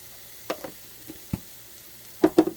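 Chopped onions, about half a medium onion, dropped into a hot pan while making cheesy au gratin potatoes, giving a few brief sizzling bursts, quiet and close, with the loudest crackle near the end.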